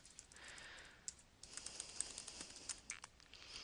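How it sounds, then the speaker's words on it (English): Someone types a search into Google on a computer keyboard, a faint, uneven patter of key clicks with small pauses, close by and quiet. "I'll type in World War II again."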